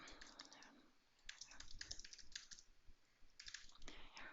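Computer keyboard typing in short clustered bursts of quick clicks separated by brief pauses, close and moderately loud, entering text into a form box.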